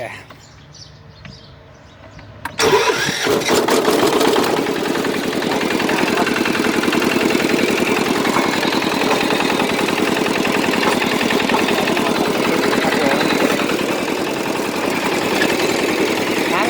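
Kubota KRT140 tractor engine fires up by key start after a quiet moment, then settles into a steady, loud, close idle with a continuous rhythmic chug that holds to the end.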